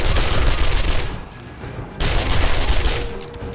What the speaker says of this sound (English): Like the SMG. I love the rapid fireness of it.